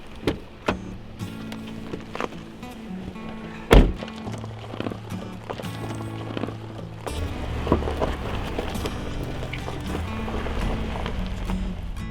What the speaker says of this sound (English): We're going to see if we can take the old Suburban through.